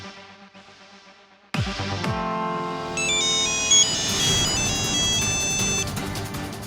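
A phone rings loudly with an incoming video call, its melodic electronic ringtone starting abruptly after a quiet moment and repeating its bright tune steadily through the rest of the scene.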